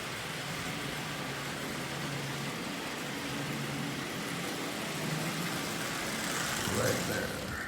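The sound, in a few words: Lionel 8601 model train locomotive running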